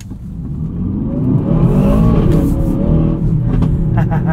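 A 2024 Aston Martin DBX 707 V8 accelerating on throttle with the tail stepping out, heard from inside as a loud, rising engine roar that builds and holds a strong rumble.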